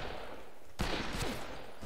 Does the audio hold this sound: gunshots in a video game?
yes